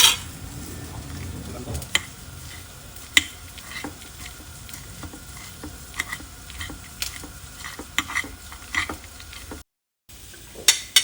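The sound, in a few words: onions sautéing while cooked chicken is shredded with fork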